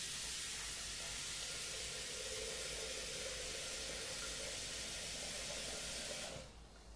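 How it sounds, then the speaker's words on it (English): Steady rushing hiss of one liter of water poured into a Thermomix bowl, running evenly for about six seconds before stopping abruptly. "So I'm just going to put water 1 liter."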